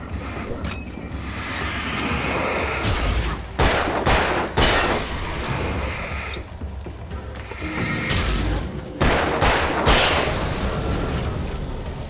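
Gunshots ring out as the player fires at enemies in Alan Wake, several loud, sharp reports spaced over the clip amid tense game ambience and mechanical clatter.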